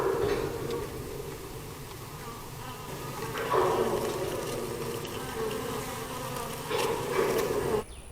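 A honeybee swarm pours out of a hive in a bee yard, a dense, steady buzzing hum recorded on a trail camera that swells louder in two surges before cutting off abruptly at the end.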